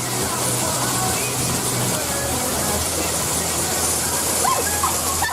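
Water spraying from an animatronic elephant at Rainforest Cafe, a steady loud hiss and splash running through the whole stretch amid busy indoor noise and loud music.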